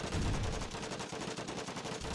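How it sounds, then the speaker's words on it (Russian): Rapid double-shot gunfire from a car weapon in the racing game Fastlane: Road to Revenge, a continuous rattling burst over a loud rumbling engine and game soundtrack. "Дает двойной выстрел."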